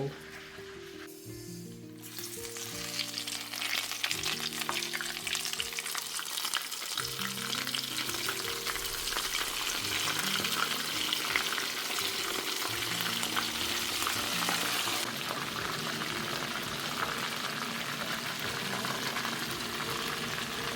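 Double-battered frog legs frying in hot oil give a loud, dense, continuous sizzle that holds steady throughout, with faint low background tones underneath.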